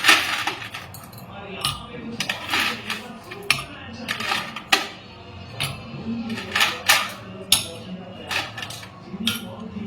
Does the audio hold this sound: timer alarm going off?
no